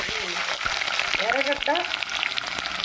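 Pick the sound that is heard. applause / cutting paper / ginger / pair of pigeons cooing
ginger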